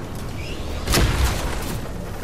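A single muffled boom of Fortnite gunfire hits about a second in, loud and close, with a short rumbling tail and a second weaker thud right after, over low background game noise.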